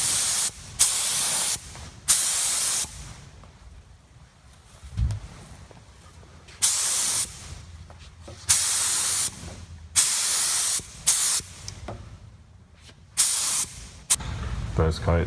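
Spray gun laying gloss black paint onto Cadillac car bumpers, the hiss coming in repeated bursts of a second or so separated by quieter gaps, with a low thump near the end.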